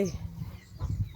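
Chickens cluck softly in a coop at a rice-field farm in rural Isan, Thailand, in a brief, low burst of fowl sounds.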